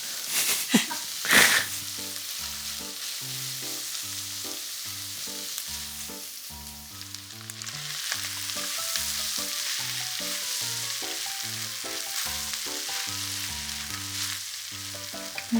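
Garlic fried rice sizzles steadily in a pan, giving a constant bright hiss that runs the whole length. A clatter comes near the start, and soft music plays underneath.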